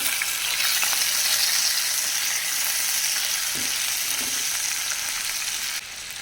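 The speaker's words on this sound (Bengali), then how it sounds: "এটা বেশ ভাজা ভাজা হয়ে গেছে।" Chicken pieces fry in a pan at home with a steady, bright hiss of hot oil, continuous and close, with a couple of faint stirring knocks and no voices.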